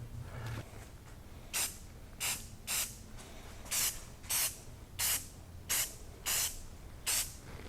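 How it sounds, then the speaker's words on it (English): Bonding primer from an aerosol can sprays onto a towel bar in about nine short, loud, hissing bursts with brief pauses between them. "now I'm going to put on this regular bonding primer"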